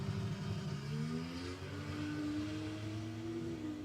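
A drag racing ute revs hard down the strip at Warwick Dragway, its engine note climbing steadily and loud throughout, with the roar of other race traffic behind it.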